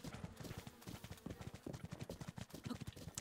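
Rapid, quiet hoof clip-clops patter steadily, like a horse trotting in The Legend of Zelda: Breath of the Wild, with no voices over them.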